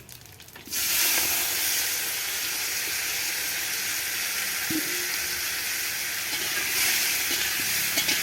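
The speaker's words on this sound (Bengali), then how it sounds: "তেল দিয়ে দিলাম, 4টে তেজপাতা, 5 ফোড়ন, টমেটোটা দিয়ে দিচ্ছি।" Tomato added to hot oil with bay leaves and Bengali five-spice for khichuri, bursting into a loud, sustained close hiss and sizzle that holds steady without talk.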